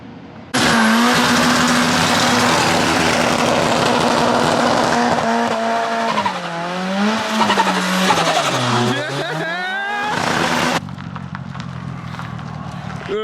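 Holden VY SS Ute doing a skid: the V8 engine roars near the rev limiter with a long, loud tire squeal whose pitch rises and falls as the car slides, then cuts off abruptly.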